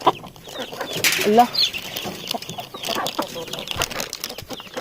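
Domestic chickens clucking and fluttering at close range in a backyard setting, with brief squawks and wing flaps around the middle, while a person speaks over the scene.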